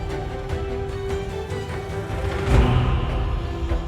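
An interactive music loop built in FMOD for a game plays a steady, sustained musical passage with a held tone and soft rhythmic accents, swelling slightly midway as its built-in tail carries into the loop point.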